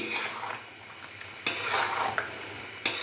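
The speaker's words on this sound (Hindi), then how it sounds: "तो अभी मैं इसको अच्छे से मिक्स करूंगा और इसको भून लूँगा मज़ीद 5 से 7 मिनट के लिए" Mutton karahi cooking in butter and desi ghee is stirred in a pan, with scraping spoon strokes over a steady sizzle and a few sharp metal clinks, close and fairly loud, with no talking.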